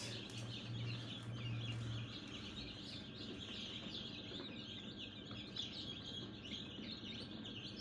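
Faint high chirping from many chicks fills the background, a busy scattered twittering with a low steady hum underneath.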